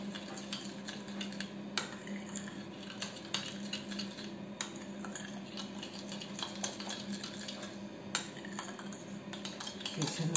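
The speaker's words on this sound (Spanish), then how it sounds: "Lo vamos a mezclar bien todo con la cuchara." A spoon stirs a bowl of homemade hand sanitizer gel, giving soft repeated scraping and clinking strokes with a few sharper taps, steady and close, with no talk.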